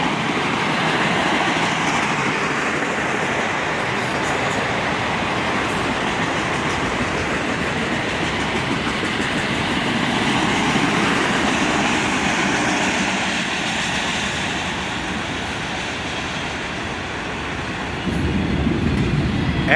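A CSX autorack freight train carrying loaded automobile frames on flat cars rolls by, giving a continuous close roar with clickety-clack wheel rhythm that eases and then swells again near the end, with no speech.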